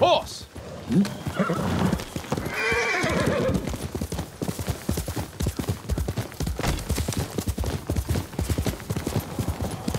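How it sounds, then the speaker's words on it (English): A horse in Ghost of Tsushima whinnies loudly at the start, then its hooves clip-clop in a quick, steady galloping rhythm close by for several seconds. "Horse!"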